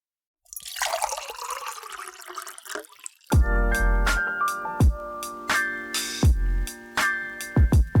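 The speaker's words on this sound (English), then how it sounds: "Pour the coffee." A small splash and trickle of coffee being poured, followed by a sequence of sharp ringing clinks and taps of a cup or spoon. All of it is close and quiet, with no talking.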